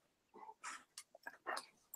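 A big dog whimpers and yips in a few short, close bursts, with soft high whines between them and no talking over it.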